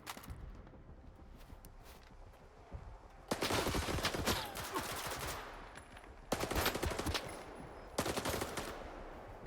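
Bursts of single-fire gunshots in a video game come in separated volleys, loud and close, with brief quiet gaps between clusters of sharp cracks and no talking.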